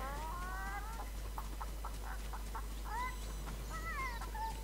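Chicken clucking and squawking in a video game, a run of short clucks and a few rising calls over a steady background hum, moderately close, with no voices.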